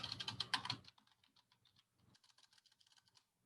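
Code typed on a computer keyboard, with a loud flurry of rapid keystrokes at first and then quieter, steady clicking keys continuing close by.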